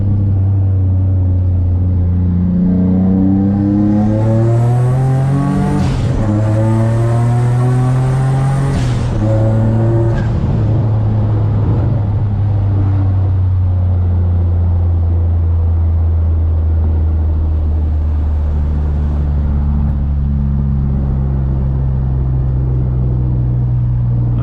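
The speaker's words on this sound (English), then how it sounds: "I want to hear the turbo instead." A single-turbo Infiniti G35 on a street tune accelerates hard through the gears, its loud engine drone rising in pitch with a turbo whistle spooling up, briefly dropping at a shift, then settling into a steady cruising rumble.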